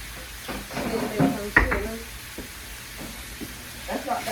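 Chicken pieces frying in a pan give a soft, steady sizzle with occasional stirring clinks and a thud, heard faintly under people talking nearby.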